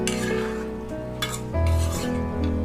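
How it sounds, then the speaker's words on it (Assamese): Potatoes and chicken get stirred together in a pressure cooker for chicken biryani, a brief scrape and clatter of a spoon over a soft sizzle. "মই আলুখিনি ভালদৰে মাংসখিনিৰ লগত মিক্স কৰি দি দিছোঁ।"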